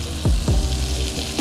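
Onions and fish for Baja-style fish tacos fry in a pan, giving a steady close sizzle broken by two or three low knocks from the pan or utensil, with no talking.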